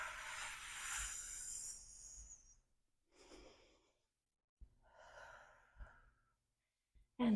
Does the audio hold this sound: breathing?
yes